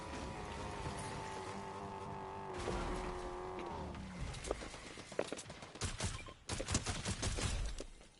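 Fortnite gunfire crackles in sharp bursts late on, following a steady engine-like drone, with shots clustering loudly in the final seconds.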